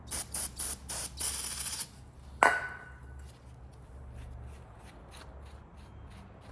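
Brake cleaner is sprayed onto the crankshaft of an Audi B8 A4 2.0T engine pulled out for a rear main seal job, several short hissing bursts in a row, then a metallic clink and quieter handling noises.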